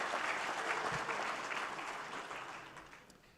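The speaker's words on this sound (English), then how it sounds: "How about another round of applause for our film and video directors" A crowd at a Pro Football Hall of Fame awards show applauds film and video directors with full, sustained clapping from many hands that gradually fades as it tapers off.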